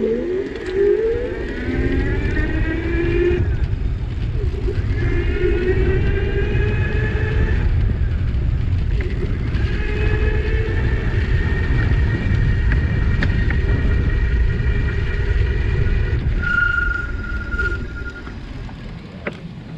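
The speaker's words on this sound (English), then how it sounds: "it's a planetary geared hub motor, and there's gears in there, and it's a zippier sound" An electric city bike with a planetary geared hub motor riding along, its motor giving a rising and falling whine that climbs in pitch with acceleration, loud and steady over road and wind rumble.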